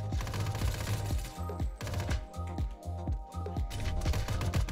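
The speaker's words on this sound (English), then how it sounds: "What the heck is this gun? It's like a rocket launcher." A rocket-launcher-like gun firing in a Core Games shooter: a rapid series of heavy, punchy shots with deep booming thumps, several bursts close together at loud level, with a faint voice underneath.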